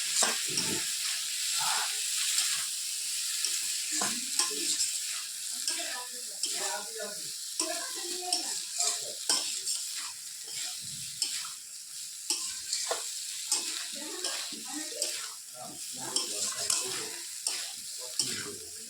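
Food for ghugni fries in a pan, a continuous sizzle broken by frequent scraping and clattering strokes of stirring across the whole stretch.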